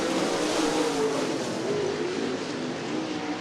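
Late model race cars racing at Cottage Grove Speedway during a heat race, a continuous dense engine roar with a wavering, slightly rising tone, steady and moderately distant.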